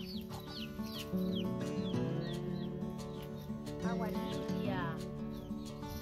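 Small chicks cheep in a garden setting, repeated high thin peeps scattered over a steady background hum while a person talks nearby.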